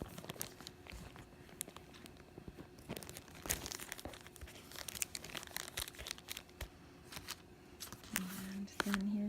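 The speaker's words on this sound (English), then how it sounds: "Plastic bag." Plastic bag crinkles and rustles in irregular bursts close by, with a few sharper crackles and handling noises.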